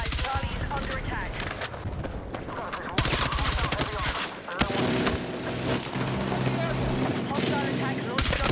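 Dense, continuous gunfire in Battlefield 6 on a Season 2 map, with rapid automatic bursts and booming shots layered throughout. A player talks over the battle.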